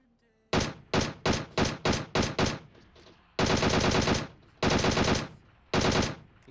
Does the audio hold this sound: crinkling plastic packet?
no